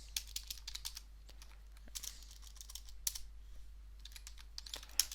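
Computer keyboard typing text while working in Adobe After Effects, a quiet run of light, uneven key clicks in small bursts with brief pauses, close and fairly soft over a low steady hum.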